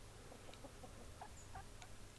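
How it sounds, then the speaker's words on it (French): Hens and roosters in a garden give faint, scattered clucks and short calls, several soft notes spread over two seconds against a quiet outdoor hum. "hormis bien sûr les poules et les coqs"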